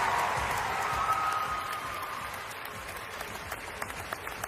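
Applause from the crowd at the 2025 WNBA draft, a broad steady wash of clapping that starts fairly loud and gradually fades under arena murmur.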